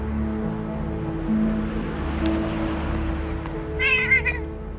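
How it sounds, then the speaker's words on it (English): Frisky the cat gives a short, wavering meow near the end, heard over a steady low background of music and ambient noise. "He's such a naughty cat."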